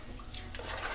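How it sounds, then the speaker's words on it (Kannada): A short splash of water poured into a pan to rinse out leftover masala while cooking egg biryani, heard close and soft and running briefly, with no voices. "ಸ್ವಲ್ಪ ವಾಟರ್ ಹಾಕ್ಕೋಬೇಕು."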